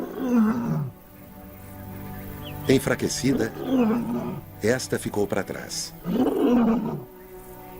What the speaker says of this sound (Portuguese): Este é o grito peculiar e instável das velhas leoas.